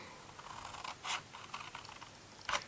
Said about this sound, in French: On vient couper en biais comme ceci.